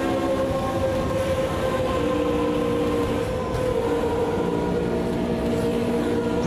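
A Ford MK IV race car in the sim racing game AMS2 roars with a steady, loud, low engine drone under sustained throttle, unbroken and close for several seconds.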